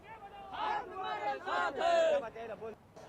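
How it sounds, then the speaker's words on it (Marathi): Crowd of Maratha protesters cheering and celebrating a reservation victory, a loud sustained mass of shouting and chanting voices rising and falling in waves, close and dense. "त्यांचा जल्लोष देखील आपल्याला पाहायला मिळतोय"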